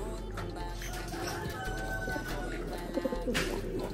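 Pigeons coo softly nearby, low throaty calls repeating over a steady background hum, with a few brief rustling sounds near the end.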